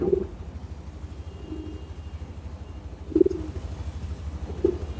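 Pigeons cooing nearby, a few soft low coos spaced apart over a steady low engine-like hum in the background.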